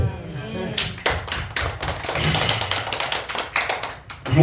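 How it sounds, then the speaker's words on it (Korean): A Korean church congregation at a Sunday morning worship service claps, with a quick run of sharp, uneven claps and taps close by while a voice speaks over them. "박수"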